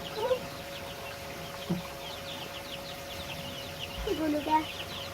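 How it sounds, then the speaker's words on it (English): Young chicks peep faintly in a brooder tank lined with shavings, with a few short chirps and clucks rising over a steady hum. "so we got all our chicks in the tank here"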